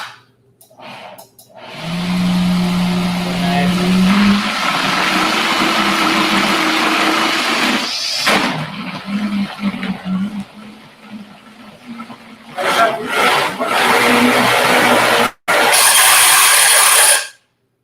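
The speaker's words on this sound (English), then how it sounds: "That's what happens when your blender knocks off the base just a little bit too much." A kitchen blender whirs loudly with a high steady whine, grinding and rattling as it knocks off its base, the motor cutting in and out in bursts, with talk between runs.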